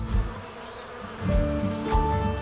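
A dense, steady buzz of many honey bees around a yard of about 32 hives, loud and close, with individual insects droning past.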